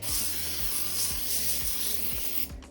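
A cooking oil spray pump gives a steady, faint hissing spray with a soft rhythmic pumping thud repeating about twice a second underneath, ending in a brief louder hiss.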